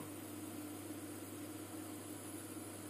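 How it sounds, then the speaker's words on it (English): A kitchen bench vibrates under an IKEA Tillreda induction cooktop running at 1800 watts, a steady low hum and faint buzz that stays constant throughout, with no talk. "Oh, the bench is vibrating now."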